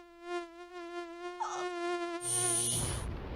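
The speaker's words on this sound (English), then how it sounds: "When mosquitoes invade, use Raid. Raid kills bugs dead." Mosquitoes in a Raid insecticide advert give a thin, steady high-pitched whine that holds for a few seconds, close and clear, before a burst of hissing spray and noise takes over.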